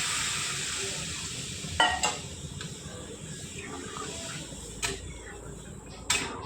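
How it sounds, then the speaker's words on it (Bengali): Cauliflower and potato curry being stirred in a pan after the fried cauliflower goes back in, a steady low sizzle with a few sharp scraping clinks of the spoon, near and moderately quiet, with a voice talking faintly. "দিয়ে সামান্য একটু নাড়াচাড়া করে জল দিয়ে দিই"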